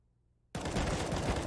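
An M4 rifle burst in Counter-Strike, a sudden loud rapid run of gunfire after near silence, continuing steadily to the end.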